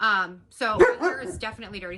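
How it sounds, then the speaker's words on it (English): A dog barks and yips a few times close by, overlapping with a person talking. "Sorry, that's my dog."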